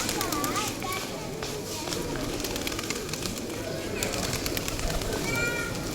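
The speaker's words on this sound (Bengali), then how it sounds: "হযরত শাহজালাল রহমতুল্লাহ আলাইহির মাজারের কবুতর।" Pigeons cooing and fluttering at the Hazrat Shahjalal shrine, several soft calls over busy ambient noise, with people talking nearby.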